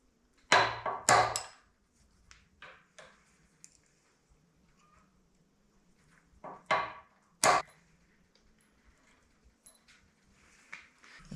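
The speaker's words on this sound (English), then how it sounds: "I'm also going to use my little baby ball peen." A small ball peen hammer strikes miniature tongs on an anvil: a quick cluster of sharp metallic blows, then lighter taps and a pause, then two more ringing hits, close and loud in an otherwise quiet space.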